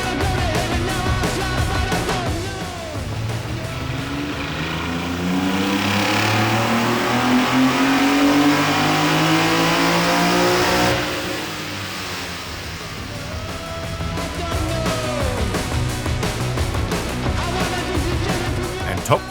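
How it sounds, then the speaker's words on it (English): Barra-swapped Ford EF Fairmont at Summernats, the engine revving hard in long rising and falling pulls, loud and close, with a voice talking over it. "Next up was another Barra swapped classic, this time Zane from Max Performance's EF Fa"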